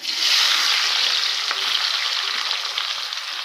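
Two long-sliced onions frying in hot oil for a Tamil brinjal curry, giving a steady, close, dense sizzle that holds level throughout with no talk.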